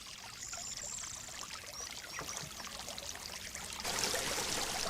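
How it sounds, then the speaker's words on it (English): Spring water trickles and pours steadily into traditional stone troughs on a farm, a continuous splashing stream with faint bird calls over it, growing louder and brighter toward the end. "Farmers will often channel their precious spring water into traditional stone troughs"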